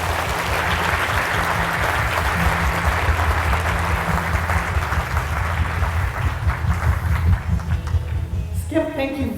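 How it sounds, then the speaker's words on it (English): Audience applause after a conference keynote, a dense, steady wash of clapping from a large crowd that fills the room, with some low rumble underneath and the clapping thinning near the end. "Can we give them a quick round of applause?"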